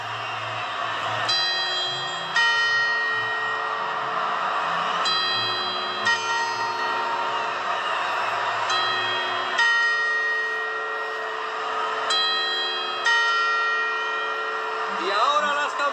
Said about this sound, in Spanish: Y ahora las campanadas.